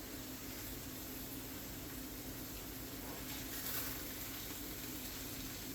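Fried rice with egg sizzles steadily in a new Babish wok as the egg is folded and mashed in, a dense, even frying hiss throughout with no talk.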